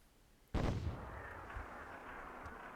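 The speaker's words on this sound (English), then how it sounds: "Getting grenaded there." A single close, heavy grenade blast in the WWII-themed Myth II Soulblighter game bursts out suddenly, then leaves a lingering rumbling decay.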